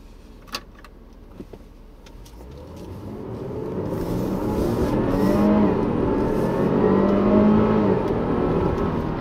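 Supercharged V6 engine of a 2016 Range Rover HSE, quiet idle with a few clicks, then building to a rising, sustained drone with a faint whining tone as it accelerates.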